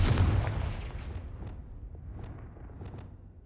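Confringo fire-blast spell explosions in Hogwarts Legacy: a loud booming burst at the start, then a rumbling tail with several sharper crackling pops spaced through the rest.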